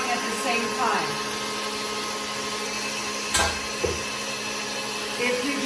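An electric mixer whips egg whites for ladyfingers with a steady, high whirring drone. The pitch shifts slightly as the beaters move, and a few brief knocks and bumps are heard along the way.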